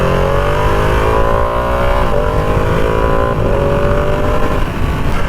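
A 2020 Ducati Panigale V2 engine runs loud and close, holding a steady throaty rev that dips and climbs again a couple of times.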